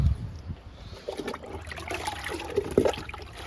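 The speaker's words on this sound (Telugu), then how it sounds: "చుక్కమల్లెకి లిక్విడ్ ఇస్తున్నా." Liquid is poured into the soil of a pink chukkamalle plant in a garden, a short, close splashing trickle with uneven bursts, fairly quiet, with no talking.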